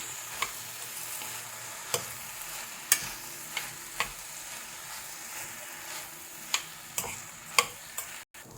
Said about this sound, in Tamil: இப்போ நான் ஊற போட்டிருக்கிற அரிசியும் போடுறேன். ஒரு 5 நிமிஷம் இதில் வறுத்து எடுக்கலாம்.